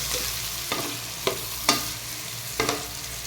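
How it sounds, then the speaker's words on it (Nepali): Onions stirred in a hot pan of oil and reddened garlic for chicken curry, with a steady frying sizzle and a few soft scrapes of the spoon against the pan, close and with no talking. "प्याज हालिसकेपछि अब यसलाई बिस्तारै फेरि चलाउने।"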